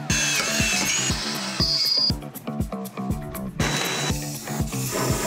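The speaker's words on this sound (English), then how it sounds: "now I'm drilling these holes through so hopefully they will line up perfectly" A power drill bores holes through a metal bench seat base being fitted in a van, with repeated rhythmic whirring bursts and pauses, close and loud, with no talk.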